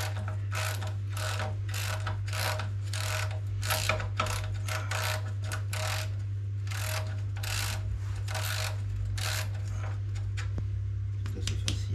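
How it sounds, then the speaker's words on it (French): A ratchet wrench with a 13 mm socket loosens a hose clamp in quick, rhythmic bursts of sharp clicking, about a dozen strokes over a constant low mechanical hum. "je vais maintenant desserrer la bride, douille de 13."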